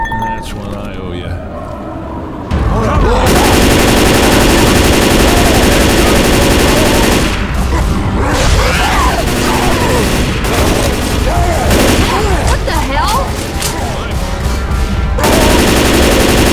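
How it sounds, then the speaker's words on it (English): Dense, loud gunfire from the zombie shooter game Left 4 Dead 2 during a Tank fight: nearly continuous automatic bursts and booms that start abruptly and run on, with players shouting under the shooting. "Stop shooting, he's dead!"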